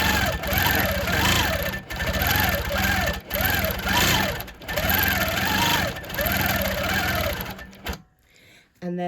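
Domestic sewing machine stitching steadily during free-motion quilting of Christmas letters and words, a loud whirring motor with rhythmic needle chatter that pauses briefly between runs and stops near the end, with a voice talking throughout.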